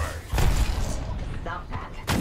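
A frag grenade explosion in the shooter game Apex Legends, a loud booming burst with a follow-up thump amid other game noise, with a voice talking.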